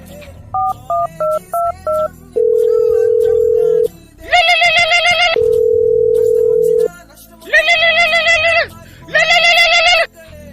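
A phone call is placed: a quick run of keypad dialing tones, steady tones, then loud repeated ringback buzzes, close and electronic.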